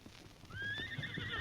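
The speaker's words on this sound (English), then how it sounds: "White stallion, the name Silver" A radio drama sound effect of a white stallion gives a shrill, rising neigh with clip-clopping hooves beneath, fairly faint and brief, with no talking.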